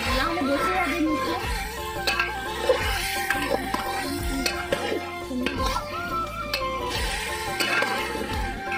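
Village fighter chicken curry being stirred in a pot, with repeated scraping and clinking of a utensil against metal and a soft simmering sizzle, close by, while a person talks over it.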